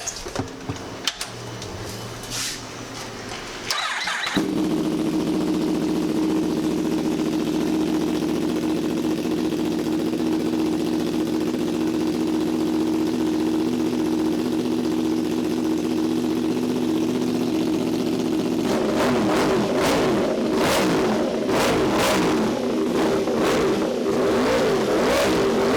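A Yamaha R1 sport bike fitted with a Blue Falcon exhaust roars at a loud, sustained high rev close by, then pulses through rapid throttle blips near the end.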